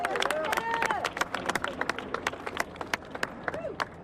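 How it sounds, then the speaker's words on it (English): A crowd gathered after a former police officer's sentencing breaks into lively applause for an attorney, with clapping, cheers and whoops mingling, then thinning into scattered claps with chatter underneath. "Y'all, a great round of applause for Attorney Lanita Baker."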